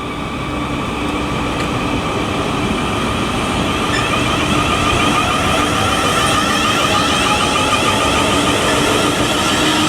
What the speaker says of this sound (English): departing now is the 12:54 South Western Railway service to Weymouth